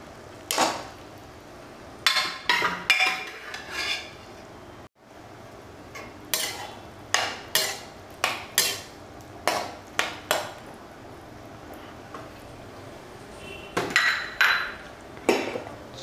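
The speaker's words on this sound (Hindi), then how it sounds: "अब हम इसमें अपने छोले मिक्स कर देते हैं।" A spoon clanks and scrapes against a cooking pan as chickpeas are stirred into masala, giving irregular close metallic knocks in small clusters with quiet gaps between them.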